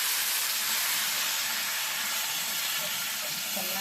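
Vegetables and tomato for vegetable palav frying in a pan, making a dense, even hiss and sizzle that holds steady throughout with no talk.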